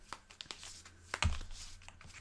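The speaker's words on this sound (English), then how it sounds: "So you're shuffling those up." Pandemic Legacy Season 0 board game cards being shuffled close by, a soft papery crinkling that builds into one short, louder riffling burst before fading out.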